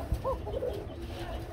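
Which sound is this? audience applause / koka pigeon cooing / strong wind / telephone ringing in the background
koka pigeon cooing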